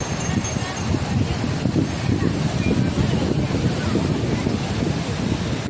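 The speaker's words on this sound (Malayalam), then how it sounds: "വിശാലമായ കടലും തിരമാലകളും കണ്ടപ്പോൾ" Surf rolls along the beach at Kozhikode in a steady, continuous wash of waves, mixed with wind buffeting the microphone. The sound stays close and fairly loud throughout, with no breaks.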